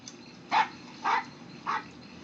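A dog in the horror film Graveyard Shift gives three evenly spaced barks, each short and moderately loud over a quiet soundtrack background.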